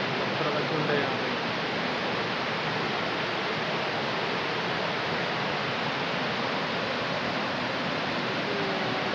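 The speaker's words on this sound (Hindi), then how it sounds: "कलकलाहट सुन सकते हैं पानियों को" Water rushes over the rocks at Kirtagarh waterfall, a dense, steady roar of broadband noise that stays even throughout with no breaks.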